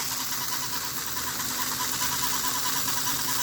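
A steady, loud two-stroke engine runs continuously at high revs with a constant mechanical whir and a faint high-pitched squeak riding on top.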